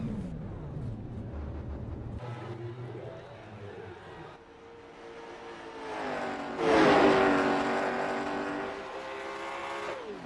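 A late model race car running laps at Nashville Fairgrounds, its engine droning steadily and rising to a louder roar partway through as the car passes near, with a commentator talking over it.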